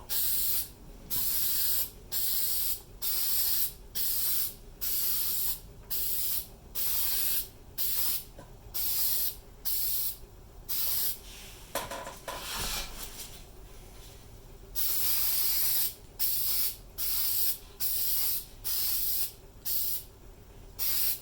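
A spray can of Rust-Oleum Farm and Implement Kubota Orange paint hisses in repeated short bursts, about a second each with brief gaps, during painting of garden tractor wheels. Near the middle comes one longer spray and a brief clatter.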